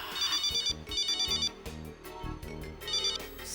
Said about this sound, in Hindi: सैडी, तुमने फिर क्यों फोन किया?